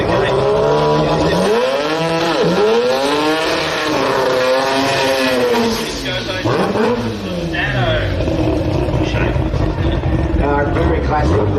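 A Nissan 1200 drag car with an SR20 engine roars down a drag strip, its note climbing through repeated sweeping upshifts at high volume, while commentators talk over the engine.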